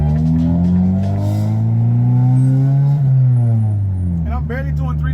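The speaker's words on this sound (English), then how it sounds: "The muffler should not be this loud." Loud muffler exhaust of a Honda Del Sol droning and revving steadily at moderate engine speed, a strong low rumble throughout with a brief change near the end.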